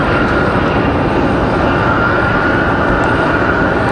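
An American Airlines Boeing 737-800 pushes back from the gate at Raleigh-Durham International Airport, a continuous, even wash of engine and ground noise with a faint high whine running through it.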